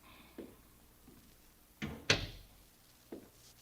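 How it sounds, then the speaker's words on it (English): A door opens in a radio drama with a few soft thuds, then a sharper latch click and clunk near the middle, followed by one more light knock, all close in a quiet room. "I opened the door for him."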